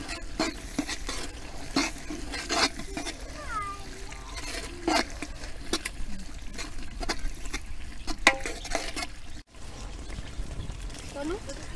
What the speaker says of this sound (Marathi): तसेच जिरे पावडर व धने पावडर चांगलं मिक्स करून घ्यायचे